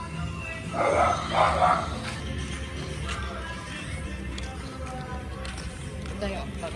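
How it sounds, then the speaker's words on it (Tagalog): A few quick dog barks in the distance, heard over outdoor background noise and people chatting nearby. "Ayun nga oh, may aso oh."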